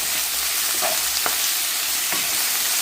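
Tenderstem stir fry with ginger paste, jerk seasoning, sweet chili sauce, garlic and curry powder sizzling loudly in a pan, a constant hiss with a few sharp clacks of stirring utensils, no talk.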